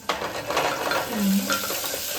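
Chopped onion sizzles and crackles in a hot pan while a spoon stirs it, giving a steady close frying hiss with scraping strokes and no voices.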